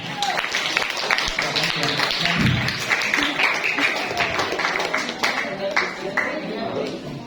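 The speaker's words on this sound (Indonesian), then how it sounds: "tepuk tangan" Students clapping during a police school outreach session at a junior high school in Tebing Tinggi, with steady close applause mixed with voices and chatter throughout.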